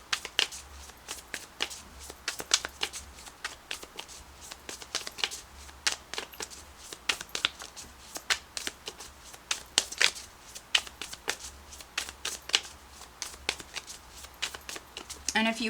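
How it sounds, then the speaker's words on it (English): Tarot cards are shuffled close by in quick, crisp riffling bursts of papery clicks and flutters, repeating steadily for about fifteen seconds with no pause. "cards are just flipping right out for you"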